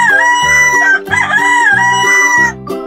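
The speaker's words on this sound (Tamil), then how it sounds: "நான் தான் சேவல்." A domestic rooster crows loudly and close up, its harmonic calls rising and falling in quick repeated phrases with no other voices.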